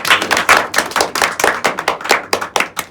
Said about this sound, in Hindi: इसके लिए ताली बजाइए पहले।